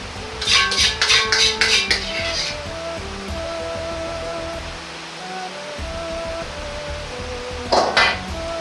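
Dishes and cutlery clink in a quick cluster of bright knocks while plating sweet and sour black vinegar pork, then go quiet before a final pair of clinks near the end, with no talking.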